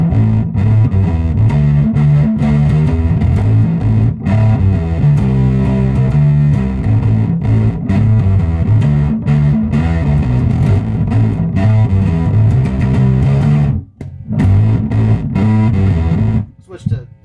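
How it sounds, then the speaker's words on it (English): A handmade LLAMA tube fuzz pedal on bass guitar gives a thick, growling distorted bass line played continuously and loud, with brief gaps near the end. "it just makes it more of a fuzz for bass"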